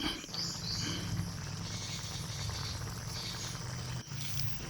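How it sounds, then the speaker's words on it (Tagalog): Steady low bubbling and simmering from a pot of catfish in coconut milk sauce, continuous and close, with a faint high hiss over it and no voices. "Kumukulo na siya at antayin natin na medyo matuyo."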